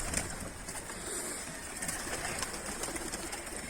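Pigeons coo softly in a quiet outdoor setting, their low murmuring calls faint against a steady background hiss.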